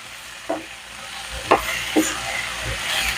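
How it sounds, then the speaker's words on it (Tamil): Mint leaves sautéing in a pan for pudina rice, a soft steady sizzle throughout with a few distinct scrapes and knocks of a stirring spoon against the pan, close by and with no talking. "புதினா போட்டு ரொம்ப நேரம் வதக்கக்கூடாது"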